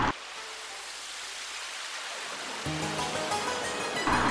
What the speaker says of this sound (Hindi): रास्ते में उसे बहते पानी की ध्वनि सुनाई दी